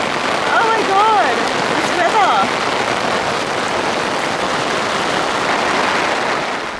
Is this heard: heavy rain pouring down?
yes